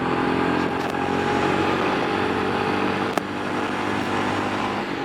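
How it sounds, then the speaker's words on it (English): A Royal Enfield Scram 411 motorcycle engine pulls hard in second gear while accelerating toward 60, a loud, close, steady drone with a rising pitch that never drops off. "Hear that engine."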